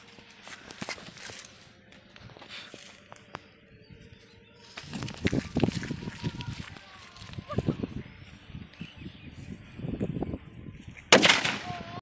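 Six-inch Valangaiman country firecracker bundle with an electric fuse, going off outdoors as a string of sharp broadband cracks and bangs over several seconds, ending in a louder final burst, with people talking underneath.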